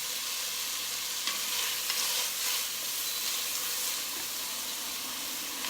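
Vegetables sweating over gentle heat in a pan on an induction cooktop, giving a soft, steady hiss with a few faint stirring scrapes, fairly quiet and without talk.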